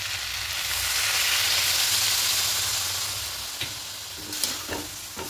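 A little water goes into a pan of cooking red amaranth greens and sets off a loud, continuous sizzle and hiss. The sound eases off, and a few light stirring clinks follow near the end.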